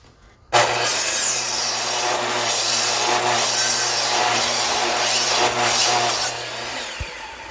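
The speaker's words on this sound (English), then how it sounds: "Just putting that 30-degree bevel on again." A saw cuts a 30-degree bevel into a wooden board during a shed build. The cut is loud, close and steady, lasting about six seconds before it stops abruptly.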